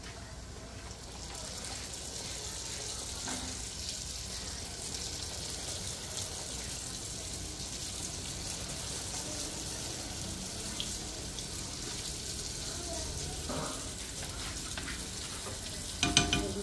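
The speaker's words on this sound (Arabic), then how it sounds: "هاد المقلة ديالنا عندنا فيها الزيت كيسخن،" Dough beignets frying in a pan of hot oil give a steady broadband hiss and crackle throughout, with a few sharper pops near the end and no voices.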